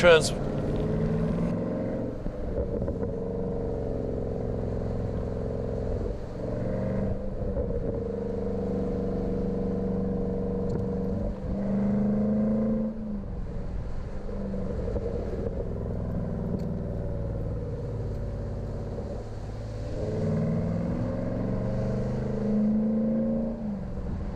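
A 2018 Dodge Durango SRT engine in sport mode through curves, a steady loud drone with rising and falling revs as the SUV accelerates out of bends, under continuous talk from inside the cabin.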